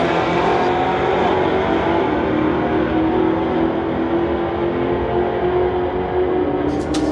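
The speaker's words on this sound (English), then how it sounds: "Jared Balfour in his 2015 Dodge running a 376." Loud 2015 Dodge drag racing a Camaro at a street-legal drag night, engines roaring at full throttle throughout the whole clip, steady and close with no speech.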